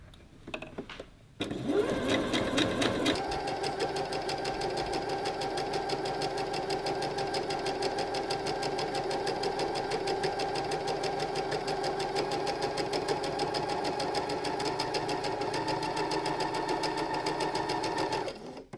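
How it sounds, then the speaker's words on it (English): A sewing machine runs a straight stitch in one continuous, steady, fast whirr that holds for about fifteen seconds after a brief start, then stops abruptly near the end. "Now I'm doing the straight stitch."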